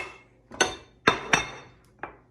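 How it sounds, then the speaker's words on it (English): Sugars and spices being dumped into a mixing bowl for peanut butter cookies, heard as four sharp, clinking knocks against the bowl, spaced irregularly with short ringing decays, close and fairly clear. "I'm going to first start off by dumping in my sugars and my spices"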